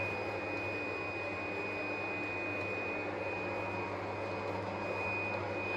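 A Duplo PFI Blade B2+ digital cutting table creasing and cutting runs with a steady, loud mechanical whir and a constant high whine throughout, with no pauses and no voices.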